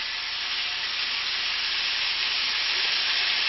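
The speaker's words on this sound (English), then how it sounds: "you hear that the sizzling never stops" Shrimp stir fry hissing in hot oil with soy sauce, a loud, steady, unbroken sizzle close by with no pauses.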